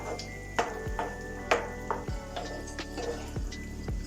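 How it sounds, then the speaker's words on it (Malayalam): Lentils for spiced dal fry being stirred in a pan, a series of distinct scraping and clattering strokes of a spoon against metal every half second or so over a low sizzle, close and moderately loud, with faint background music. "ഇനി ഇതിലേക്ക് നമുക്ക് ഈ പരിപ്പ് ഇട്ട് കൊടുക്കാം. അതൊന്ന് നന്നായിട്ട് ഇളക്കി കൊടുക്കാം."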